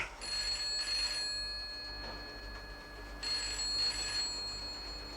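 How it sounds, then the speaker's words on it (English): A telephone bell rings in two bursts separated by a pause, bright and metallic, with faint room hum underneath and no voices. "That's the telephone ringing, sir."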